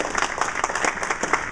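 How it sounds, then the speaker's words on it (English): An audience claps for a newly introduced neighborhood association president at a district address, a steady patter of many hands filling the room throughout, with faint talk underneath. "let's give him a round of applause for stepping up to leadership."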